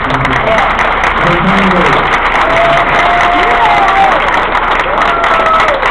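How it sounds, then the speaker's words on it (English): Crowd applause and cheering for an outgoing mayor rise at a Miami Beach mayoral swearing-in ceremony, a loud, dense wash of clapping that runs steadily throughout with voices mixed in. "A couple round of applause."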